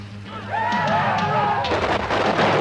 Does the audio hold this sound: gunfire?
yes